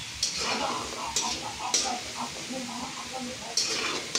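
Potatoes stirred and fried in hot oil in a pan: a continuous sizzle with repeated scraping and metallic clinks of the spoon against the pot, under faint talking.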